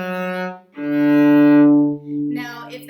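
A cello plays one measure of Ode to Joy, a few bowed notes in sequence with a long held middle tone, close and clear with no talking.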